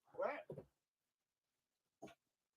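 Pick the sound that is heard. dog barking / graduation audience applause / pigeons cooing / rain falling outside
dog barking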